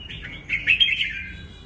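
A caged young red-whiskered bulbul (chào mào), about six or seven months old, gives a quick run of bright, warbling chirps that rise in the middle, clear and close with no talk.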